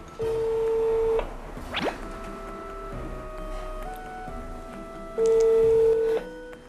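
A landline telephone rings unanswered during a visit to an older flat, with long steady ringback tones at the start and end and a quieter stretch of ambient room noise between them.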